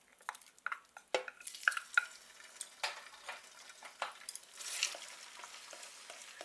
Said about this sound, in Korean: 젓가락으로 뭉쳐지지 않게끔 골고루 고기를 떼주세요.